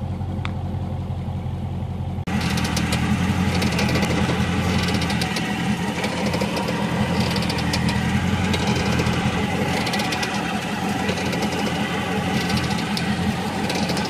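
A Dodge Charger Scat Pack engine idles close by, a steady, low, loud rumble that kicks in after a couple of seconds and holds evenly to the end with no talking.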